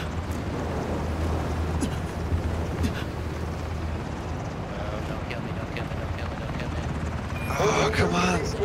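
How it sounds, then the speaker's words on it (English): Helicopter in a multiplayer shooter video game, a steady low rotor drone with wind-like noise under game sounds and a player's voice, a brighter burst near the end. "I gotta jump on the chopper."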